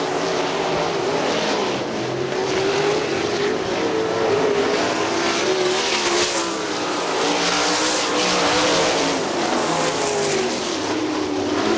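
Sprint cars roar around the Kokomo Speedway dirt track during a heat race, a dense, steady wall of high-revving engines heard loud and sustained, with overlapping cars blending throughout.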